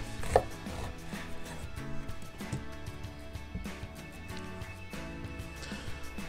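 A knife cuts a pomegranate in half during Christmas dinner prep, giving a few short, close cutting knocks over a steady bed of background music.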